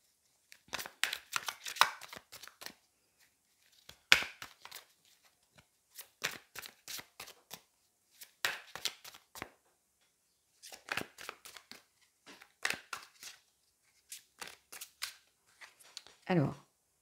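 Tarot cards shuffled and drawn in short clustered bursts of crisp riffling and flicking, separated by brief silences, close and fairly quiet.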